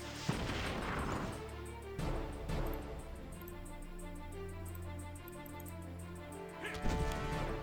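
An artillery barrage in the turn-based war game Battle Nations lands as a few heavy booming impacts with rumbling tails, spaced several seconds apart over a low steady game hum.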